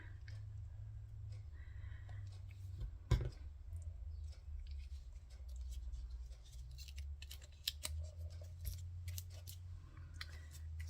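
Scissors snip through paper and card while fussy cutting out card-making elements, a run of small close clicks and cuts with one sharper snap early on.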